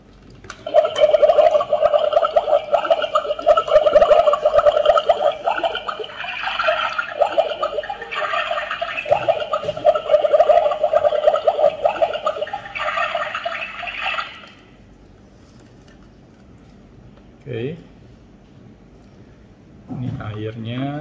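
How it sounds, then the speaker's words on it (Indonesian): Water trickles and drips as it is poured into a cheap Onemed surgical face mask treated with eucalyptus oil, a busy gurgling stream for about fourteen seconds, then quiet with a couple of short splashes near the end. "Ini airnya dan kita akan tuang di sini ya"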